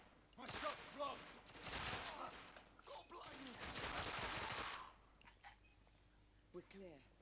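Bursts of rapid gunfire from the video game The Order 1886, loud and sustained for several seconds with shouted voices over it, then easing into quieter scattered shots.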